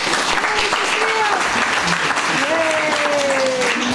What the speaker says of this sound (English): Applause for Harvey.